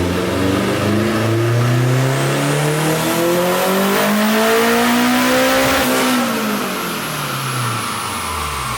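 A turbocharged K24 engine in a Honda Civic Si revs hard on a dyno, its loud rising howl climbing steadily in pitch for several seconds with a turbo whistle above, then dropping off as the throttle closes.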